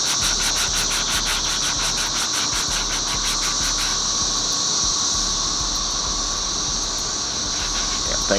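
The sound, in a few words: sanding a Cutlass center console with sandpaper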